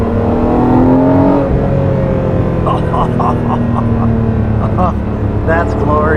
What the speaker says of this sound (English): All you want to do is get on it to hear that intake